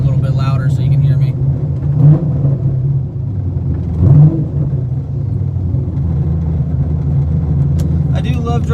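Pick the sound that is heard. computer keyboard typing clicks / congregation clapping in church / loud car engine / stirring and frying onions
loud car engine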